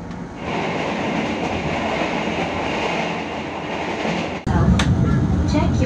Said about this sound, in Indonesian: KA Gaya Baru Malam Selatan kembali diberangkatkan dari Stasiun Kutoarjo Kabupaten Purworejo jam 18:10